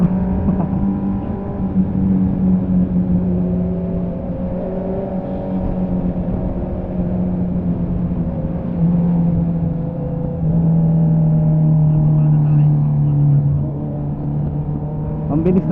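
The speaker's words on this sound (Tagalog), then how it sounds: "Mga truck." Heavy trucks passing on a road, heard from a Honda CB650R motorcycle ride in Ternate, Cavite: a steady, loud engine rumble and whir that swells and fades as vehicles go by, with no clear talk over it.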